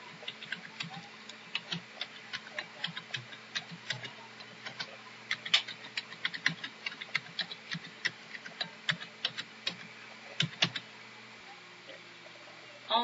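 An email address is typed on a computer keyboard: a steady run of light, close key clicks in an uneven rhythm over a faint hum.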